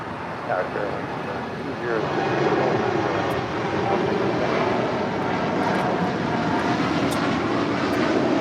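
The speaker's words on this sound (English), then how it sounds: "This is Korean Air Cargo 214 departing to San Francisco on a 747-8 freighter." A Korean Air Cargo Boeing 747-8 freighter departing LAX, a broad, heavy engine roar building and holding loud, with radio chatter and talk heard over the noise.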